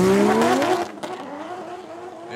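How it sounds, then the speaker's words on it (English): A drift car at Hampton Downs Motorsport Park launches from the start of a battle, its engine revving hard and climbing in pitch, then cutting off sharply before dropping to a lower, rougher drone with some tire noise. "listen to Cody out the gate, trying to get as much drive as he can."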